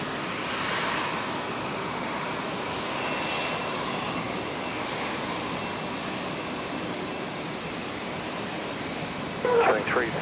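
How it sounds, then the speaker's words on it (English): A QantasLink airliner departs Brisbane airport, a broad, sustained jet engine roar at middle distance that holds steady, with brief talk near the end. "Qantas Link 1949 heading out to Hobart."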